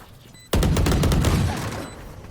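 A burst of rapid gunfire in a tactical shooter video game erupts suddenly after near silence, a loud fusillade of overlapping shots that stays dense and sustained before easing slightly toward the end.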